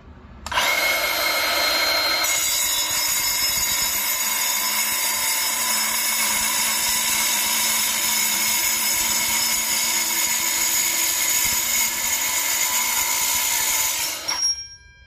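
A Milwaukee M18 Fuel cordless circular saw slices 1/4 inch steel, a loud, sustained screaming whine with bright metallic overtones that starts abruptly, runs about fourteen seconds and cuts off sharply.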